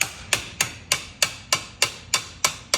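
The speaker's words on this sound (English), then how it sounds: "So now I'm gonna take my hammer," A hammer taps a Wesley Fab rearset part into place on a Honda Grom motorcycle, giving about ten evenly spaced, sharp metallic knocks close by with no talking.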